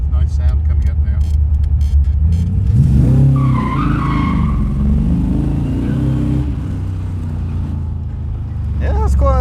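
An Invacar's engine revving inside a tunnel, loud and echoing, rising and falling in pitch under a couple of passengers talking over it.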